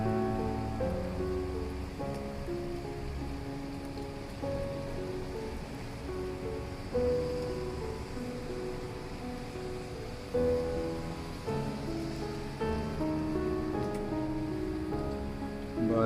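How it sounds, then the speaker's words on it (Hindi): Steady rain falls in Abu Dhabi as a continuous, even hiss across the whole stretch, with faint tonal background sounds underneath and no voices. "बारिश चल रही है,"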